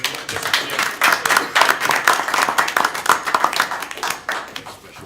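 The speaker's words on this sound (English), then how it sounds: "If you guys clap for my Mayor's Award winners." An audience at a city council meeting claps for Mayor's Award winners, a lively burst of applause from a crowd of hands that swells and then tapers off over about five seconds.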